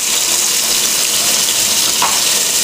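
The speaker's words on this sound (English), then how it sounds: "rinsing out the food processor cup with the water that contains the ginger garlic, and then just emptying it into the pot" Water splashes and gushes as a food processor cup holding ginger-garlic water is rinsed and emptied into a cooking pot, a steady, loud hiss of running liquid.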